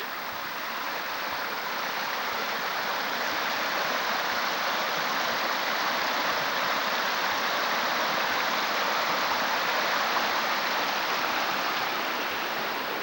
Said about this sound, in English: I think this is Bola Creek or Deer Creek.